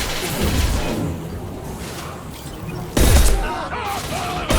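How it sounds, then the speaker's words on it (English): Rapid gunfire with Inferno ammo rattles loudly in the Mass Effect 2 video game, a dense crackling fusillade with booming impacts and a sharp louder burst partway through, under busy combat noise. "try the Inferno ammo on this thing"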